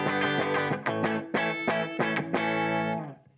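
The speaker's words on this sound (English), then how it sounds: "Here's my clean tone." An electric guitar plays clean, undistorted chords and notes with a little reverb through a Room #40 Overdrive pedal, in a steady strummed rhythm, bright and sustained, ringing out alone at the end.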